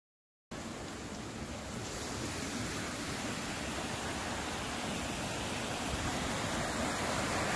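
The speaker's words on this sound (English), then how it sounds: "The water flowing." River water rushes steadily in a continuous broadband roar, loud and unbroken after a brief silent start, flowing nearby.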